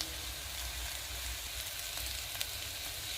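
Turmeric frying in an oil-filled pan while a broad bean and tomato curry is cooked, a steady, even sizzle throughout with a faint crackle, no voices.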